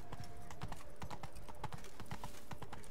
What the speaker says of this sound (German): Ich weiß gar nicht, ob Pferde in Wirklichkeit Treppen laufen können.